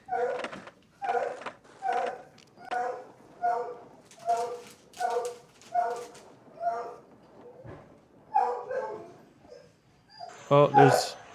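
A dog barks about a dozen times in a steady, evenly spaced rhythm, the barks fairly close and moderately loud, ending with a brief louder noisy burst.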